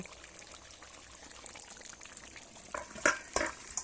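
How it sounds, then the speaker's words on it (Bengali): Cooked dak bungalow chicken curry is poured and scraped from the pan, starting with a quiet simmering hiss and ending with a few louder wet clatters and spoon scrapes near the end, with no one talking. "দেখুন বন্ধুরা রান্নাটা আমার একদম কমপ্লিট হয়ে গেছে এবারে আমি ঢেলে নেব"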